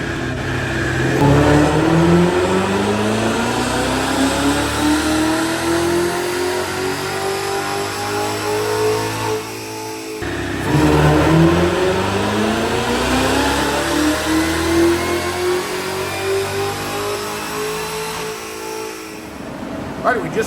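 Corvette Z06 engine on a dyno during tuning passes roars loudly through two long rising pulls, the pitch climbing steadily each time with a short drop and lull between runs.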